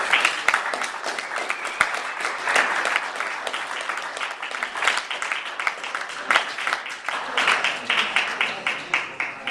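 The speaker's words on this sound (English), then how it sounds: "let's give them a round of applause." An audience applauds steadily for several seconds, a dense patter of many hands clapping that gradually thins toward the end.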